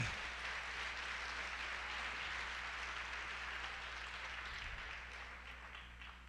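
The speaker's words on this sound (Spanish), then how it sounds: "Dele un fuerte aplauso al Señor" A church congregation claps for the Lord during a Spanish-language sermon, a soft, continuous wash of many hands heard from a distance, fading slightly toward the end.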